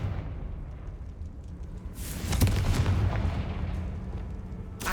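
A Confringo spell explosion in the Hogwarts Legacy video game bursts with a deep, rumbling boom that swells after a quieter stretch and then decays over a couple of seconds.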